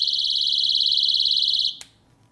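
A loud, steady high-pitched beep from an ADS sound alarm, muffled by a hand, sounds continuously, then cuts off abruptly with a click, leaving quiet.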